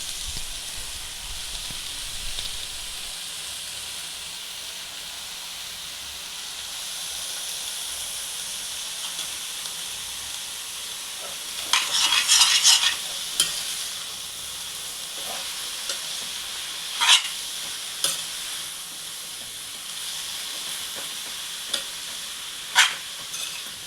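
Onions frying in a pan over the stove are stirred with a ladle, giving a steady hiss and sizzle with a few sharper scrapes and clinks of the ladle against the pan.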